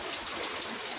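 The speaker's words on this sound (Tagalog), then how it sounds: "Kaso, umuulan." Rain falls steadily in a dense, even patter, with a few sharper drops standing out briefly.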